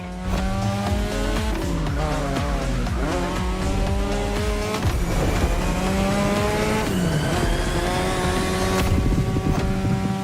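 A racing car in The Crew Motorfest drifts through sharp turns, its engine roaring steadily while tires squeal and skid through each corner, loud and continuous with no talk.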